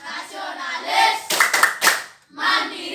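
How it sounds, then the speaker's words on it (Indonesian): Children in a classroom perform the tepuk PPK Pancasila clapping routine, chanting in unison and then breaking into a quick cluster of three or four sharp group claps before the chanting resumes. "Langkah baiknya kita juga melakukan tepuk dan salam PPK."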